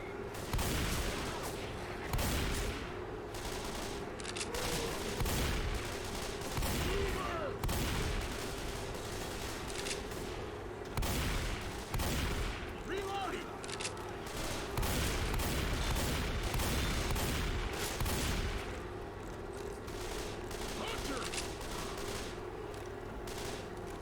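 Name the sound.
sniper rifle gunfire against a zombie wave, Left 4 Dead video game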